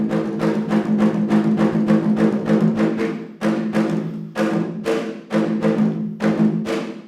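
An African master drum plays a rhythm change, with loud, close, resonant strikes in rapid repeated groups separated by brief gaps, heard alone.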